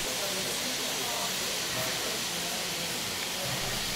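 A loud, continuous hiss of steam from a nearby 57-class steam locomotive, number 5701, a broad rushing sound holding steady throughout.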